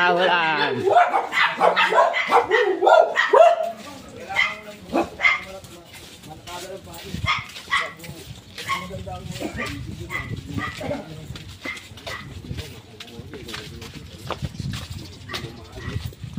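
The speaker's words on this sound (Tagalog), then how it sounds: "Oy, mga aso kayo. Tahulan." Several dogs bark in bursts, loud and close at first and then thinning into scattered yips, while people talk over and between them.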